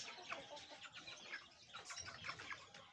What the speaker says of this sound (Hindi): ये जो सफ़ेद मुर्गी है ना जी, ये तो हमें भी मारती है जी।